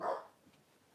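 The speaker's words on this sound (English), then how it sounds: "No barking." A single short dog bark indoors, fairly faint and fading quickly into quiet room tone.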